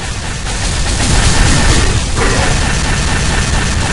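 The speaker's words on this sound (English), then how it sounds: "he spawns, he fires, you go behind cover, he stops firing" Gunfire from an AI enemy in an Unreal Development Kit game: a dense, continuous burst of shots and crashing impacts, loud and steady for several seconds, with no talk over it.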